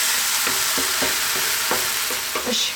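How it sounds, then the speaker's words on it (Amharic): Onions sizzle steadily in a hot pan as the base for an Ethiopian fish stew, with a constant bright hiss and soft periodic scrapes of stirring, close and alone without any voices. "ሽንኩርታችንን እንጠብሳለን።"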